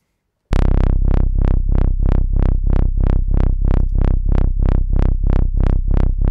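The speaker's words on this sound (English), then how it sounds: "I'm looking for a parallel distortion here, not the full thing" A distorted bass synth with parallel distortion pulses in a steady, fast repeating LFO rhythm, each note gritty and harmonically rich, playing loudly after a brief silence.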